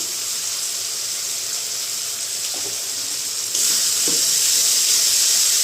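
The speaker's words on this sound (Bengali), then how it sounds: "এবার আমি একটু ভালো করে কষিয়ে নিতে হবে" Masala spice paste sizzles steadily in hot oil in a pan while being fried for a milk paneer dish, a bright constant hiss that grows louder partway through, with faint clinks.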